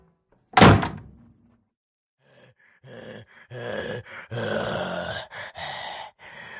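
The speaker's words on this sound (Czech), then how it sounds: "Zas mi dveře zavřela." A door shuts with one loud, sharp thunk near the start, followed by a pause and then a stretch of clattering, scuffling sounds in a children's fairy tale about the three little pigs and a brick house.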